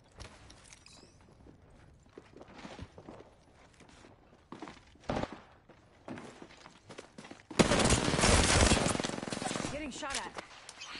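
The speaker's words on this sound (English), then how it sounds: "Getting shot at." Gunfire in a sci-fi battle royale video game: scattered footsteps and isolated shots early on, then a sustained loud burst of rapid automatic fire dominating the last few seconds, with a player talking intermittently throughout.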